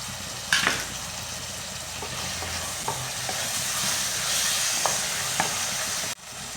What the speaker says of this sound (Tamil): இப்போ பச்சை பட்டாணி அது நல்லா மிக்ஸ் பண்ணி விடுங்க.